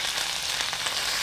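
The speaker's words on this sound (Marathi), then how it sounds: "कढीपत्ता आपला छानपैकी तडतडून झालाय" Curry leaves crackle and sizzle in hot oil with reddened garlic, tempering for a cabbage stir-fry; a steady, close, dense popping hiss runs throughout with no talking.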